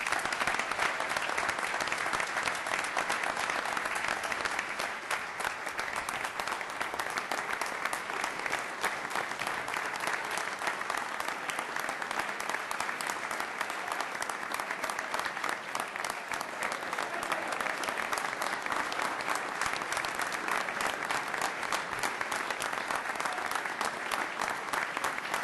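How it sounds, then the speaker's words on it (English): Council meeting audience applauding a high school Christian soccer team for its first IHSA Class 1A state title, a long, even wash of clapping from a large room that carries on without letting up. "How about a round of applause for these young men?"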